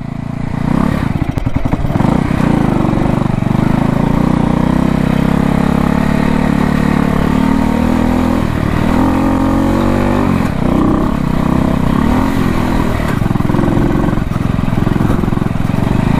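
A 1968 Harley-Davidson motorcycle rides in second gear on a sandy surface, its engine a loud, continuous low rumble close by that rises and dips slightly with the throttle, with wind noise throughout.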